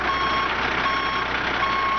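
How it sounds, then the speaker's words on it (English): A truck engine idling steadily and loudly up close, with a repeating high reversing beep sounding over the constant engine drone throughout. "go ahead and shut off the truck engine so we can hear better in the video"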